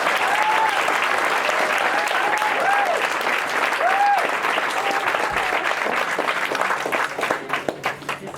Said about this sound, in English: So I think that Nana Harriet deserves a separate round of applause.